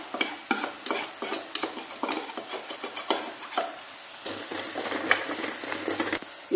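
Onion, ginger and garlic frying in a pan while being stirred, a steady sizzle broken by repeated quick scraping strokes of a spoon, close up and moderately quiet, with no talking.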